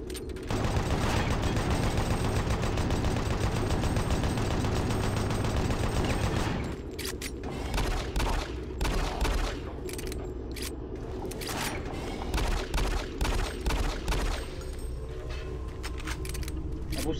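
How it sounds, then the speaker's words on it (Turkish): Sustained rapid gunfire in the horror video game Doom 3, a dense continuous burst for several seconds, then scattered individual shots and clicks, with no voices over it. "Mermi sıkıyor ya."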